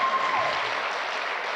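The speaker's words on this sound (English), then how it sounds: "Pause for applause." Audience applause at a closing keynote on funding in Australia, a steady wash of clapping from a crowd, moderately loud and continuous throughout without talk over it.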